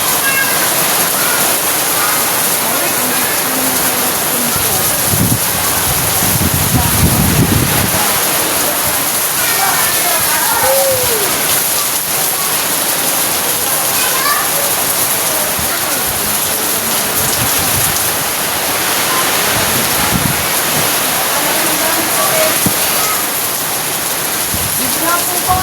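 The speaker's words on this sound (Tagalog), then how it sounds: "Ang lakas na ulan." Heavy rain pours down hard and steady, a loud dense hiss close by, with faint voices underneath now and then.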